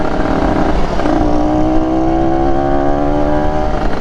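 A modified motorcycle engine revs loudly close by, with a rough steady roar that climbs in pitch partway through and then holds, with no talk.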